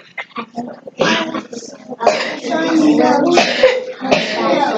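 Repeated coughing bursts from a young child, close and loud, in a series of harsh, wet fits with short gaps between them.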